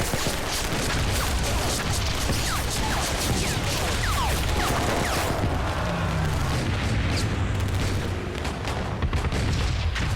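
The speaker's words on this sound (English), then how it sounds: "Rocket launchers, mortars, and 85 machine gun nests tear into the Americans." Rocket launchers, mortars and machine gun nests fire on American troops on a World War II beach, a relentless dense roar of overlapping blasts and crackling gunfire with no pause.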